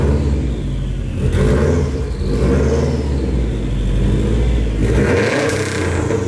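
A Subaru WRX engine revs loudly through its aftermarket exhaust, a deep rumble that rises and falls in pitch several times.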